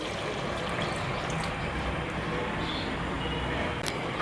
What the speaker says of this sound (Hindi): मैं तकरीबन 2 गिलास के करीब पानी ऐड करूँगी।